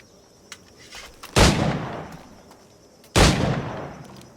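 Two loud gunshot blasts from a firearm in Assassin's Creed IV: Black Flag, each a sharp crack with a decaying boom, about two seconds apart, over quiet game ambience with faint small clicks before.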